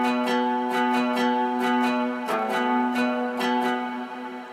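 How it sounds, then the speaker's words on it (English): A santur-like struck string instrument with an Arabic flavour plays a melodic line of bright plucked notes over a sustained tonal drone, each strike ringing clearly, with no talk. "It's kind of santur, but it has some kind of Arabic sound in it."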